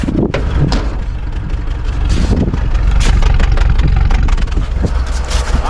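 An old truck, revived after sitting dead in a field, idles roughly and loud up close, a steady rumbling engine with uneven chugging and some wind or handling noise over it.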